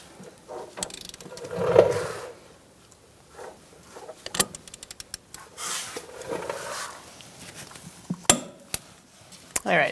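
A ratchet clicks in short, irregular bursts while threading the brake caliper bracket bolts on a 2014-2018 Subaru Forester, with faint metallic clinks and handling noises in between.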